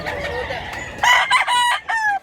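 A young stag rooster, about a year old, crows close by in a rural Cebu setting, giving one loud, broken cock-a-doodle-doo in several rising and falling bursts.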